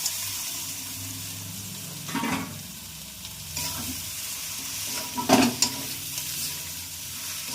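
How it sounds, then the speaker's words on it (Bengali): Fried pointed gourds go into a pan of egg and spices, producing a steady sizzle broken by a few louder stirring and scraping bursts near the pan, with no speech. "এবার আমরা কাঁকরোলগুলো দিয়ে দিচ্ছি, ভেজে রাখা কাঁকরোলগুলো"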